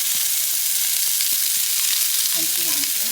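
Turkey sausage browning in a pan for carne frita fried rice, a dense, loud, continuous sizzle with occasional faint clicks of a utensil.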